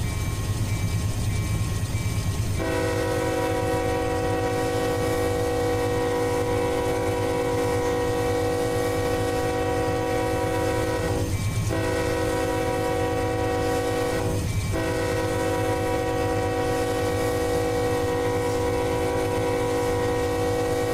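A 28,000-ton coal train rumbles along in Run 8 Train Simulator, its horn sounding long sustained chords with two brief breaks over a constant low engine and rail drone.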